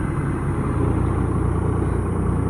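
Car engine running steadily as a stuck car is pulled up by chain, a constant low rumble with a dense, unbroken drone and no pauses.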